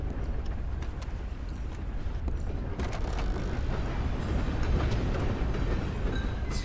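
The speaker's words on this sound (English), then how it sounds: "This is your train. Midnight Express," A passenger train rumbles along in Red Dead Redemption 2, a continuous heavy rolling clatter of wheels and carriages with occasional metallic clanks, heard from inside or close by.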